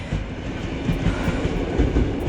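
Koleje Dolnośląskie passenger train rolling past outdoors, loud and close, with a steady rumbling roar and rhythmic wheel clatter throughout, no talking.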